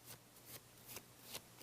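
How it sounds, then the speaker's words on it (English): A deck of playing cards is shuffled repeatedly during a card-magic demonstration, giving soft riffling bursts at a quick, even rhythm, quiet and close, with no voice. "Come down, begin shuffling, and continue shuffling"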